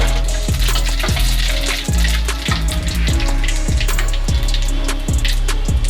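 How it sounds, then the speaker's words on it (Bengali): Dried red chillies and whole spices hit hot oil in a pan, giving a loud, continuous sizzle broken by repeated sharp crackles and pops throughout. "তেলটা গরম হয়ে গেছে। আমি শুকনো লঙ্কা 2টো দিয়ে দেব।"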